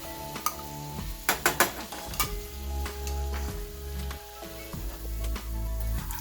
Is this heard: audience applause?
no